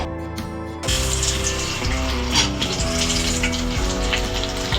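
Cumin seeds, curry leaves and cut green chillies hit hot oil in a tempering, bursting into a loud, close, continuous sizzle and crackle that holds steady throughout.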